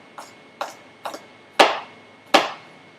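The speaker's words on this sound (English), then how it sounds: "just finely slice our chili just to go on top" A knife finely slicing chili on a cutting board, five crisp separate chops, the last two louder, with short pauses between them.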